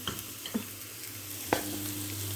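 Chopped onions crackle and sizzle in hot olive oil, with a few scraping stirs of a utensil in the pan.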